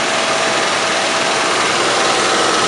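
A 1989 GMC Sierra fire department rescue truck with a 350 engine runs at a steady, loud, close drone with no variation in pitch or rhythm.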